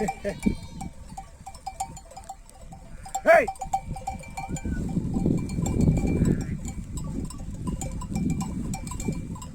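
Sheep bleat close by in a village flock as a cowbell clinks, with a person talking over the animals and a steady outdoor rumble underneath.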